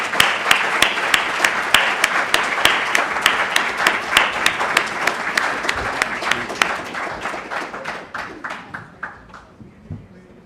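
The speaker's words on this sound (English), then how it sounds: "Please acknowledge them with your applause." Audience applause for conference panelists, with sharp, rhythmic claps that stay strong for several seconds and then gradually thin out and fade, with no talking.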